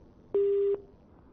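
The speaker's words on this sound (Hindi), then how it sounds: "आपका फोन कट गया है, लगाने का प्रयास कर रहे हैं" A single flat telephone busy tone after a phone call drops during a live news broadcast, one clean beep of under half a second set against quiet background hiss.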